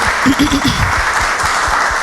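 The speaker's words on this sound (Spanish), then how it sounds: "Yo quisiera mandarle un aplauso a tu mamá" An audience applauds the host's mother at a music-and-books talk event, a steady wash of clapping with a voice briefly heard over it.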